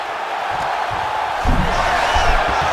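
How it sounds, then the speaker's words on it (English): Crowd noise from an arena in the EA UFC 5 fighting game during a women's bout, a broad steady roar that swells louder midway as the crowd reacts, with commentary-like voices faintly underneath. "crowd goes wild as she escapes another submission"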